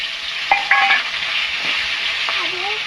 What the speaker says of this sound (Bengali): বাকি মাছটা ভেজে নেব।